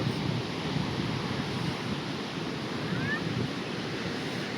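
Ocean waves at Chandrabhaga beach: a continuous broad roar of surf mixed with wind buffeting the microphone, steady and fairly loud throughout, with no clear voices.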